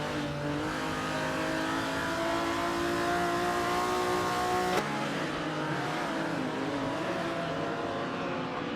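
A Lamborghini race car in a racing video game roars steadily at high revs, its tone rising through the first half, then a sharp shift-like break drops the pitch into a lower, wavering drone.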